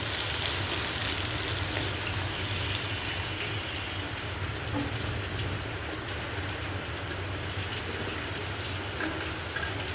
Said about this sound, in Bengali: বাইরে বৃষ্টি হইতেছে